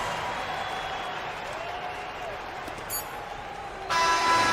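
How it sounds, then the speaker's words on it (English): A home crowd in a basketball video game keeps up a steady roar of cheering and applause. A sharp burst of noise swells louder near the end, and a commentator talks over it. "So the home crowd happy here as they get the victory."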